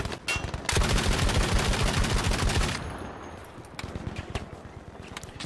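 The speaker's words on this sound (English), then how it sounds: "Use their own machine gun against them" A captured Japanese machine gun fires in Battlefield 5 on Iwo Jima, a long rapid burst of close, loud shots, then scattered distant gunfire continues.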